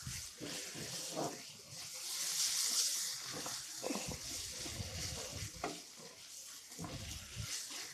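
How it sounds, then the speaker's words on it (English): Spices toasting in a few drops of olive oil for a curry, giving a steady soft sizzle and hiss with faint stirring scrapes and clinks close by. "I'm just going to drop in just a couple of drops of olive oil just to help toast those spices."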